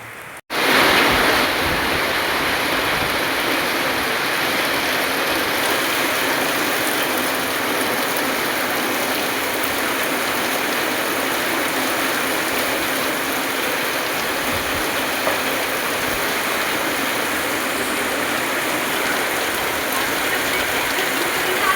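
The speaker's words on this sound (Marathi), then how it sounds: "आणि आज पावसाळा झाला बघा" Heavy monsoon rain pours down on a village after a night-long downpour, a dense, steady hiss that holds at an even level throughout with no voices.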